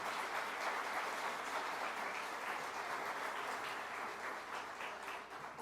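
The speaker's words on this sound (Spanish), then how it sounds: "Un gran aplauso de agradecimiento a todos los productores y productoras." Sustained applause from an audience at an agricultural event in Mexico, steady dense clapping heard somewhat distant and fairly quiet, fading slightly toward the end.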